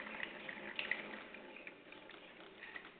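Tap water runs steadily at a household faucet as it is opened for a baby to drink, a faint, even splashing trickle with small drip-like spikes and no voices.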